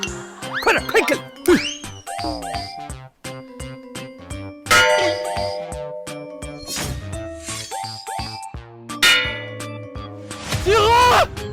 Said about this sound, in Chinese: 那个去敲钟集合